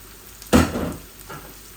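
Tilapia fish and shrimp hitting a hot oiled pan, a single sharp burst of sizzling that quickly fades, followed by a fainter second hiss.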